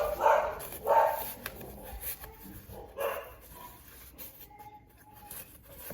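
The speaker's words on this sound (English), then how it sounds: "You can hear the dogs in the background" Dogs bark in the background, a few separate bursts early on, then quieter scattered yips fading toward the end.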